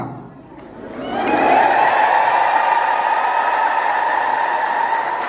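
An audience bursts into loud, sustained ululation, a high trilling chorus of many voices that swells in after a brief lull and holds steady and strong to the end.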